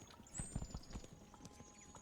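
Horse hooves clip-clop in a quick uneven patter in the strategy video game Thronefall, soft and fairly close, with a faint high tone running behind them and no talking.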